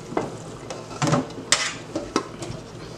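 Ground meat browns in oil in a pan, a soft constant sizzle broken by sharp clinks and scrapes of a utensil against the pan at irregular intervals, close by.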